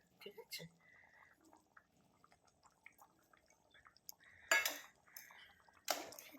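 A spoon stirs fried masala into a pea and potato curry in a pot, making quiet scraping with a few sharp metallic clinks and clanks against the pot, while a voice talks softly in the background.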